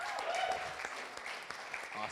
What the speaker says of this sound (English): Thanks for the warm round of applause.